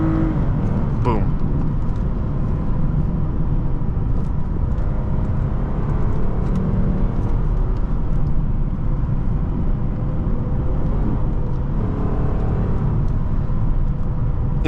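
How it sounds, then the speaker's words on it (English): 2006 Lexus IS250 engine heard from inside the cabin on a test drive, a loud sustained drone that swells with throttle blips and shifts in pitch through a downshift, with road noise throughout. "Instant response from the throttle. Downshift coming out."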